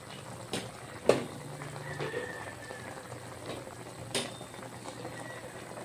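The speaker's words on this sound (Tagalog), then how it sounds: "kumulo na yung chicken natin" Chicken curry bubbling in a pot, a quiet continuous simmer with soft popping and a few sharper clinks of a utensil against the pot.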